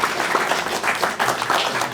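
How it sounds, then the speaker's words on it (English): Brief hand clapping from a single person at a public heritage-month event, a quick run of claps lasting about two seconds, fairly loud and close with no talk over it. "I very briefly clapped for myself there before I recognized what was happening"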